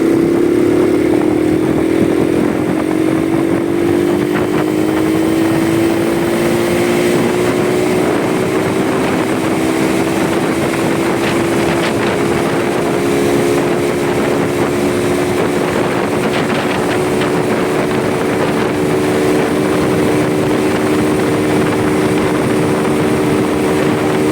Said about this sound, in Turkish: Şimdi 4'teyken part diye gaz açacağım ve e, motor ne kadar hızlı gidiyor onu görmüş olalım.